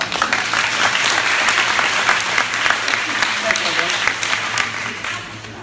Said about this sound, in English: Clap it up, guys.